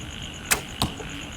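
Two sharp arrow impacts from a heavy 75 lb Kaya Korean traditional bow striking a target, one loud thud followed by a second about a third of a second later, then a faint tick, over a quiet background.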